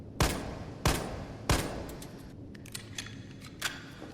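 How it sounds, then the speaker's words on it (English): A G18 handgun in Resident Evil 3 Remake fires three sharp, loud shots at even intervals, followed by fainter mechanical clicks and rattles as the weapon settles. "let's test it out with the Burst"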